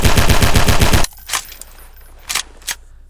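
Automatic gunfire in the video game Garry's Mod roars in a loud, rapid continuous burst for about a second, then cuts off, leaving a few faint scattered clicks and taps in a quiet background.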